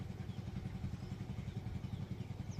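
A tractor engine running with a steady, rapid low chugging pulse, close and continuous throughout, on a farm.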